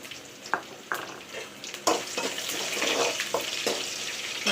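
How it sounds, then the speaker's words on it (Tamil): Crushed garlic sizzles and crackles in hot oil in a pan while being made into tamarind rice, with a steady frying hiss and several sharp stirring clatters spaced through it. "தட்டி வச்சிருக்க பூண்டு சேர்த்துக்கிறேன்"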